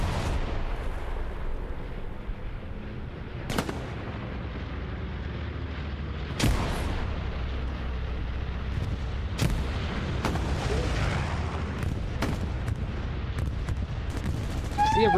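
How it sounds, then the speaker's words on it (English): In a multiplayer shooter game, an Allied team's bombing run brings heavy explosions crashing at irregular intervals over a constant rumble of distant gunfire and battle noise. "See a reciprocal bombing run in here for the Allied team"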